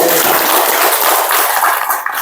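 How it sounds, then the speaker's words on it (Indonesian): An audience at a Hajj association gathering in Singkawang breaks into dense, steady applause, a continuous loud wash of many hands that begins to thin near the end. "Tepuk tangan dulu untuk beliau."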